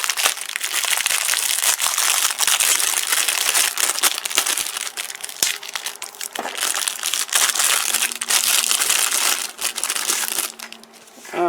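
Taped cardboard-and-plastic doll packaging being opened up close, with continuous loud crinkling, crunching and tearing of tape and plastic, plus occasional sharp clicks.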